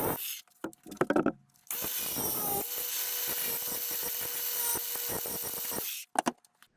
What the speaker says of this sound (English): got my Sawzall blade in there, and I'm going to cut this out.